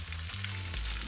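Saltfish, vegetable and banana fritters frying in hot oil, a steady close sizzle and crackle that carries on without a break and with no talking.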